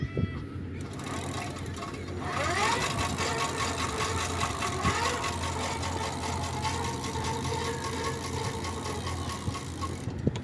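Electric bike motor whirring with pedal assist while the crank turns, a steady mid-pitched hum and faint rising whine running continuously and close for the whole stretch, with a little background noise.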